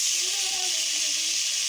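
Onions in hot oil in a pan give a loud, steady sizzling hiss that continues without a break, with faint voice-like tones underneath.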